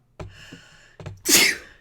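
Three sharp bursts of breath, the last a loud, hissy explosive release like a sneeze, close to the microphone with no talking.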